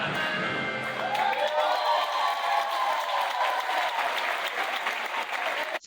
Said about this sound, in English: See, there was cheering in that clip.